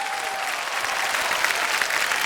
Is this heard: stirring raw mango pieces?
no